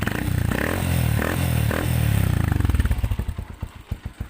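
A motorcycle fitted with a chicken pipe exhaust packed with steel wool roars loudly up close, then drops to a slow, throbbing idle with distinct pulsing exhaust beats.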